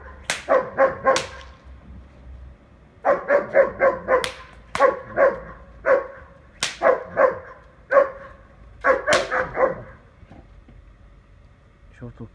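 A guard dog in training is provoked into barking, firing off loud close bursts of rapid barks in clusters separated by short pauses, with a few higher yips in between.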